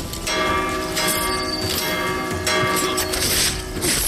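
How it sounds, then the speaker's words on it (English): A ship's bell rings out in Assassin's Creed Black Flag, loud and sustained with lingering metallic overtones over busy game noise and clatter, with no voices. "To ring the bell all you want."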